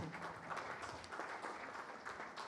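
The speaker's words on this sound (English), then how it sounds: "If we can give them one last round of applause as they move out of the stage" Applause from a conference audience as speakers leave the stage at a technology event, a soft, distant patter of many hands clapping in a steady wash, fairly quiet throughout.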